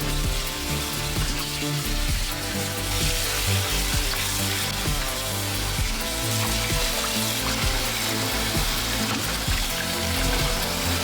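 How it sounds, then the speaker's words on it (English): Raw fish rinsed under running water in a kitchen, heard as a steady, dense, loud splash and hiss of flowing water across the whole stretch, with no talking. "Now we're going to rinse off the fish."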